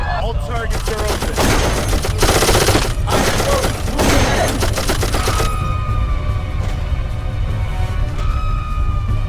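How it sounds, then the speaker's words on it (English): Sustained automatic fire from an automated turret in the video game Darkest of Days, a dense rapid clatter of shots that runs loud for several seconds, then stops and gives way to quieter game ambience. "That's an automated turret."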